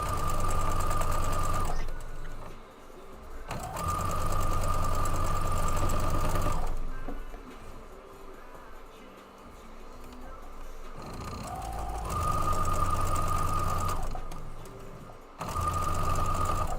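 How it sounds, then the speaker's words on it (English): A sewing machine stitches fabric in long steady whirring runs, stopping and starting between pauses, close and clear with no talk over it. "Am I sewing this first piece? Yes."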